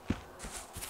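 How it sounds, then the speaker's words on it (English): A few soft footsteps in the survival game Miscreated, faint thuds spaced irregularly across a quiet forest background. "you can actually hear their footsteps"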